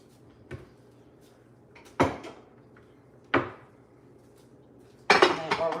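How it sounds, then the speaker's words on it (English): Metal loaf pans clank and scrape as they are pulled from a kitchen cupboard: three sharp knocks a second or so apart, then a longer rattling clatter, with faint room noise in between. "I gotta grab my loaf pans."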